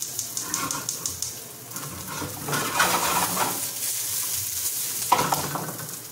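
Tilapia and vegetables sizzle and spatter in a hot pan, with occasional clinks and scraping of a utensil stirring, steady and moderately close.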